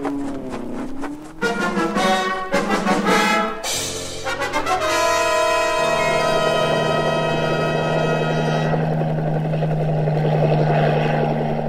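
A cartoon helicopter in an early-1960s Tintin animation starts up with choppy rotor beats and then settles into a loud, steady droning whine that holds to the end, with no speech.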